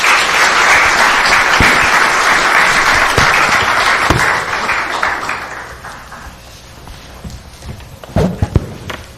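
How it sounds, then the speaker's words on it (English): Audience applause after speakers at a national summit on housing affordability, loud sustained clapping from a crowd that fades out over several seconds, followed by a few scattered thumps. "Let's give them a round of applause."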